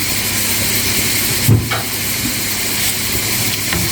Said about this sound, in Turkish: Kıymayla soğanı kavurdum biber ekledim üstüne şimdi